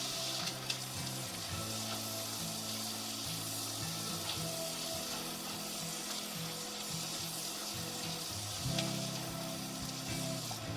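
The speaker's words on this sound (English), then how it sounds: "And let it start frying away." Steady crackling sizzle of home-cured pork belly bacon frying in a hot pan, continuous and close, with no voices over it.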